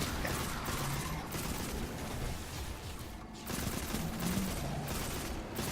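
Automatic rifle fire in the video game Destiny 2, rapid continuous bursts with a thick, steady roar of shots and a brief pause midway, moderately quiet with no talk.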